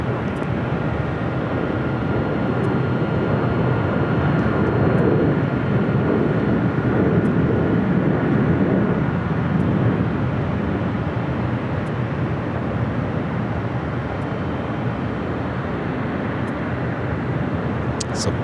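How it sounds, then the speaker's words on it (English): Jet airliners taking off back-to-back at Los Angeles International Airport: a continuous, loud, broad engine roar holding steady throughout, heard from a distance with faint background clicks. "So back-to-back takeoffs, the King and the Queen."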